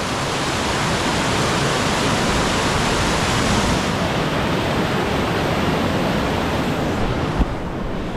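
Waterfall at Sickle Tarn pouring steadily, a loud, close, continuous broadband rush of falling water that stays constant throughout with no voices.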